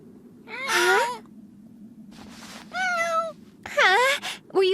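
A cat meows repeatedly, three or four drawn-out, wavering cries separated by short quiet gaps, close and fairly loud over a faint low background hum.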